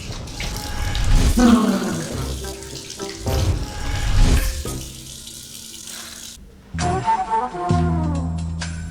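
Water running and splashing while someone bathes in a bathroom, a rushing broadband flow that swells and breaks into bursts, close and fairly loud, with voices partly heard under the water.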